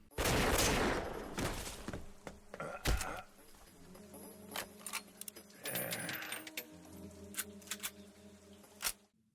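Rapid bursts of gunfire from an anime action scene in Ghost in the Shell: Stand Alone Complex, sharp close shots cracking in a loud flurry at the start and then in scattered single reports among clatter and movement.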